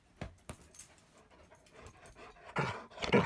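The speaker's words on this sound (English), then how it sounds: "Don't bark, Moosey." A dog pants and gives a few short, sharp barks close by, with scattered bursts and a louder cluster toward the end, in an informal gathering among friends.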